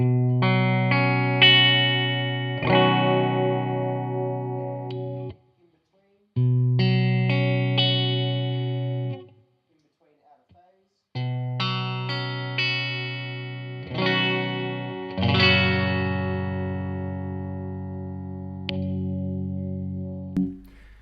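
Clean electric guitar chords and picked notes ring out in phrases through an original Line 6 Spider amp, a warm mellow tone on the neck pickup first, then a brighter, twangier bridge pickup after a short silence.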